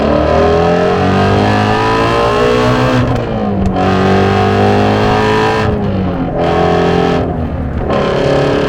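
A 2017 Shelby GT350 Mustang, a 526 hp car, accelerates loudly with its engine note climbing steadily through the gears in a continuous, close-up roar, with brief dips at the shifts and no talking.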